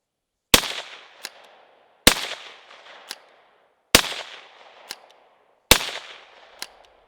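Four loud, sharp shots from a CZ 515 blowback-operated rifle ring out outdoors at evenly spaced intervals, each with a crisp crack and a trailing echo that fades before the next.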